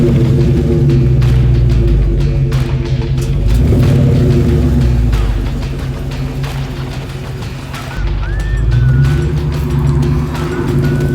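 Dodge Charger engine idling and revving on its stock exhaust before a mid-muffler delete, a loud, deep, steady rumble with swells of revving, close by and without talk.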